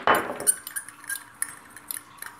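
A spoon mixing a dried herb and spice blend of oregano, rosemary, basil, marjoram and garlic in a bowl, with a loud scrape at first and then light metallic clinks and taps, with no talking.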